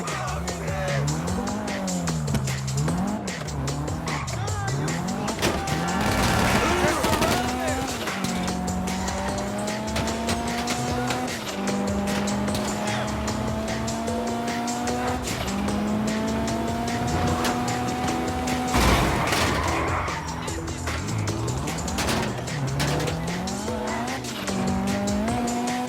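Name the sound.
car driving with tire squeal in video game Grand Theft Auto V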